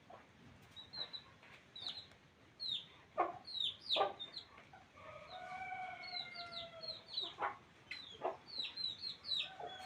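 A mother hen clucks to her chicks in a village yard, soft rhythmic clucks broken by sharper high calls, with chicks peeping in the background, fairly faint and without speech.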